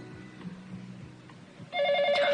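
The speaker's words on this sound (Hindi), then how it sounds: "फोन।" A telephone rings loudly with a steady electronic trill that begins abruptly partway through, after a stretch of quiet room noise.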